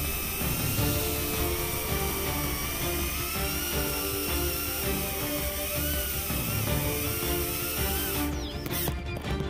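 A GEPRC Smart 35 FPV drone lands on open ground, its propellers giving a steady, close, high-pitched buzzing whine with wavering tones, followed by a brief scuffing burst at the end.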